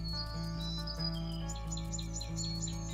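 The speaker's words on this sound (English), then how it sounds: "the soothing sound of singing birds" Birds chirping and singing with repeated high tweets and short trills, heard over a steady low hum and droning background tones.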